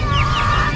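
A chicken clucks loudly and close, a continuous throaty call with busy background noise.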